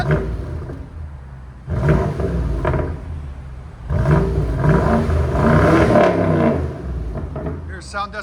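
A 2015 BMW X6 M with a 4.4L twin-turbo V8, muffler delete and Sport Plus mode, revving in two long, loud roaring bursts separated by a brief lower idle.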